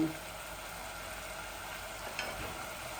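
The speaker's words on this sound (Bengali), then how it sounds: "এখন আমি মাছগুলা দিলাইম।" Medium-sized pabda fish go into a pan with mustard paste and sizzle with a soft, steady crackle, faint and fairly distant, with a small bump near the two-second mark.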